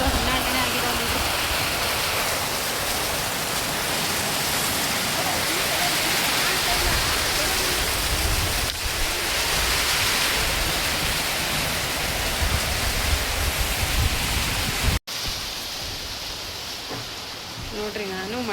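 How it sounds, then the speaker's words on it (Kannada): Heavy rain pours steadily in a village during a windy monsoon storm, a dense, loud, unbroken wash of water noise that drops briefly near the end before resuming slightly softer. "ಈ ಥರ ಮಳೆ ನೋಡ್ರಿ ನಮ್ಮೂರಲ್ಲಿ ತುಂಬ ಅಂದರೆ ತುಂಬಾನೇ ಮಳೆ ಆಗ್ತಾ ಇದೆ."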